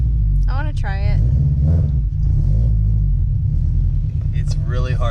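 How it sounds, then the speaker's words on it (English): A loud, steady Subaru BRZ engine rumbles close by, deep and continuous, while people talk over it. "because the car is so loud"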